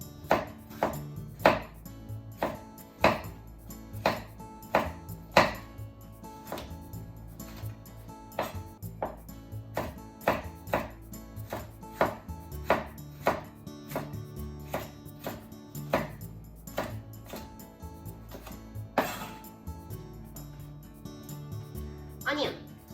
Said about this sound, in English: Same for the red pepper. Cut it into half.